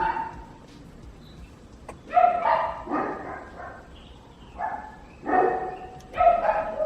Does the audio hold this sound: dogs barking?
yes